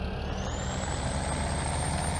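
Engine whine from a New Holland H8060 tractor in Farming Simulator 17, a steady high-pitched tone gliding up and holding over a constant loud diesel rumble, with no talking.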